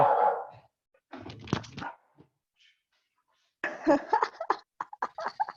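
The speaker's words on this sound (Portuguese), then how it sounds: "o cachorro tá tendo um xilique" A dog barks in a frantic fit, several loud bursts at close range, then a busier run of sharp yaps and thumps toward the end, with quiet gaps between.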